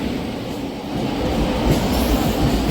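A train hauled by a WAP-7 electric locomotive rumbles past close by, a steady loud roar of wheels on rails that builds slightly toward the end, with no voices.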